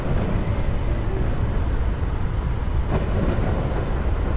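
Thunderstorm weather in a flight game played in VR with a Thrustmaster T-Flight Hotas X, a heavy continuous rumble of thunder and rain, loud and steady with no talking.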